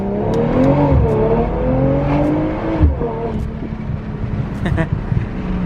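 A BMW M340i on lowered H&R springs revs and climbs in pitch as it accelerates, then eases off into a steady drone with some rattling.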